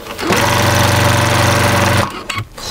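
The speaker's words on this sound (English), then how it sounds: "All I'm gonna do, press my power pedal and let's go all the way up to this edge" Pedal-powered sewing machine stitching along a quilt seam, a loud, fast, steady mechanical chatter that runs for about two seconds and then stops, with a couple of faint clicks after.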